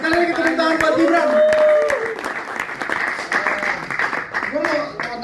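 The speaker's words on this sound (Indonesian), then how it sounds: "sekali lagi tepuk tangan buat Gibran." An audience at a drum and bass session-player technique event claps, giving a steady round of applause for a few seconds. It plays under and alongside a presenter speaking.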